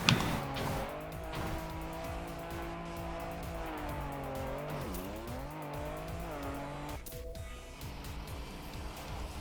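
A rally car in the Trackmania racing game drives with a steady, loud engine drone that dips and rises in pitch as it shifts and revs, and tires squeal through turns.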